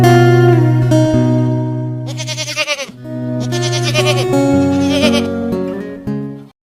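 Goats bleating on a backyard goat farm, several loud, close, wavering bleats in succession with brief pauses between calls, dominating the sound.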